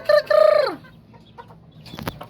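Chickens in a backyard coop, including a rooster and white sweater birds with chicks: a loud close crow-like call that slides down, followed by softer clucks and scratchy rustling.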